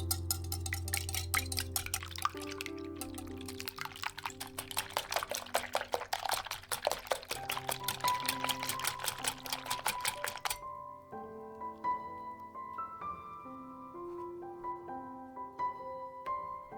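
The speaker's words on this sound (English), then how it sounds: "Give it a good whisk." Eggs with a pinch of salt are whisked in a bowl, giving a brisk run of rapid clicking strokes over background music for about ten seconds before the strokes stop and the music carries on alone.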